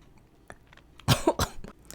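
A single sharp cough, close by, with a couple of smaller throaty sounds around it in an otherwise quiet room.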